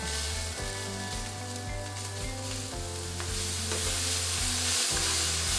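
Mushrooms sauté in a pan for a truffle cheese burger, a soft, continuous sizzle sitting beneath steady background music with sustained tonal notes.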